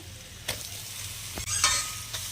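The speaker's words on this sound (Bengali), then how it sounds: "গ্রেট করা আলু ভালোভাবে নেড়ে নিলাম।" Grated raw potato stirred in a hot pan, a continuous frying sizzle broken by a few sharp scrapes of the spatula against the metal, close and fairly quiet.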